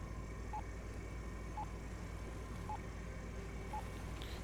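In the Stormworks video game, a faint electronic beeping signal repeats four times at even, roughly one-second intervals over a constant low hum of engine noise.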